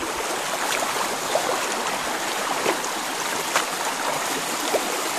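Icy high-mountain spring water flows steadily in the Caucasus mountains, a constant close rushing and trickling wash with small splashy accents and no voices.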